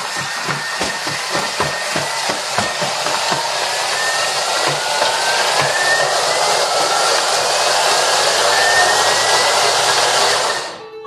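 Loud, continuous whirring kitchen blender with rattling, knocking chunks of a big sugar block at first, grinding steadily for about ten seconds before cutting off.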